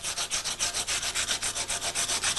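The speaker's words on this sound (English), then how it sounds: "The purpose of the emery is to do all the raised surfaces" Emery abrasive rubbed by hand over the raised surfaces of a stone memorial during resurfacing, making a steady rhythmic back-and-forth scrubbing, about eight strokes per second's worth of even, close, hissy passes with no talk.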